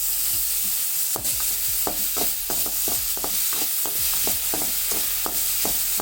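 Tomato and curry leaves fry in oil for egg kothu parotta, a constant loud sizzle with rhythmic scraping stirs throughout and no talk.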